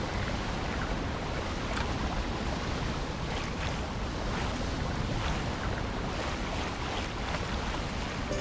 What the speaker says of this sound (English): Here, behind the waterfall.